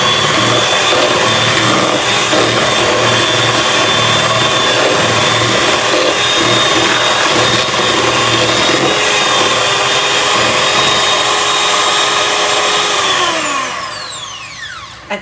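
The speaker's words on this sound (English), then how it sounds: "So that's our cream, nice and thick and whisked, whipped together." An electric whisk whips cream until thick for a dessert, running as a loud, continuous high motor whine that holds steady, then winds down and stops near the end.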